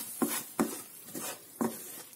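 Homemade tomato sauce for a pizza sautés in a pan while being stirred, giving soft scraping swishes in a slow irregular rhythm over a faint, quiet sizzle.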